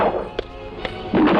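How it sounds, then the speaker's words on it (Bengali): Sharp gunshot-like bangs in a troubled city street, two brief cracks spaced apart followed by a louder burst, mixed with background voices and noise. "যেখানে যাই খালি গুলির শব্দ"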